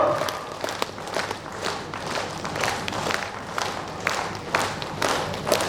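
Crowd applause at a Nyishi Baptist Church Council annual conference, a loose, uneven patter of many hands with individual claps standing out, moderately distant and steady throughout.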